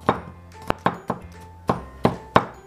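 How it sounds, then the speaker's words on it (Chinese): Knife chopping peeled garlic on a cutting board into fine mince, seven or eight sharp, close thunks in an uneven rhythm with short pauses between strokes, no talking. "下面我们把这个去好皮的大蒜切成蒜末"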